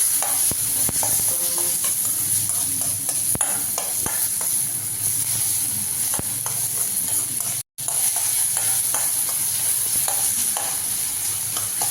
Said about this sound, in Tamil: கொஞ்சம் ஆயில் விட்டு வதக்கலாம்.